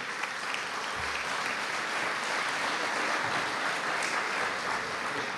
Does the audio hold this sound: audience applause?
yes